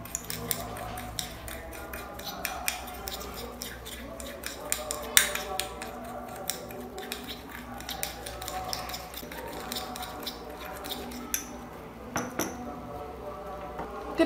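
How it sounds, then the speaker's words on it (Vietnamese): A spoon stirs a mixture with fine salt grains in a bowl, making continuous gritty scraping with scattered light clinks against the dish, close and moderately loud throughout. "Các bạn hãy trộn đều hai hỗn hợp này lên."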